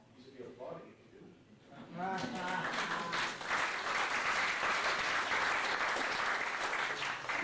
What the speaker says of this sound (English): You should be applauding if you do.